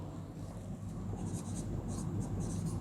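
Soft scratchy strokes of writing on a classroom board, in short bursts under a teacher's voice, faint against a low room hum.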